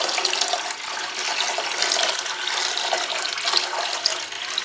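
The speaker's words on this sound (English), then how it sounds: "raise the jug up, pour from a bit of a height, so that the water is immediately aerated." Water poured from a raised jug into a Drinkwell Zen pet fountain, a steady bright splashing stream that runs the whole time, fairly close and with no speech over it.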